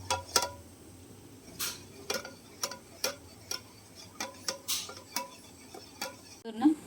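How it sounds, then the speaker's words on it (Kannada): Thick curd being beaten in a bowl, a quarter litre of it, giving a steady series of sharp clicking taps as the utensil strikes the bowl, close and fairly loud with no voice. "ಇದನ್ನು ಒಂದು ಸ್ವಲ್ಪ ಬೀಟ್ ಮಾಡ್ಕೊಳ್ಳೋಣ"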